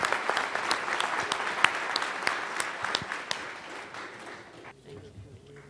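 An audience claps for Oakland Mayor Jean Quan, a full round of applause that thins and fades toward the end, with faint voices underneath.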